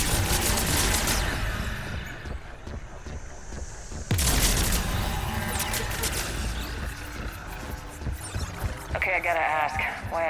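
Gunfire in Mass Effect 3 inside the Geth Consensus, dense bursts of shots and booms from combat, loud and sustained, with a sharp renewed burst midway and spoken voices mixed in.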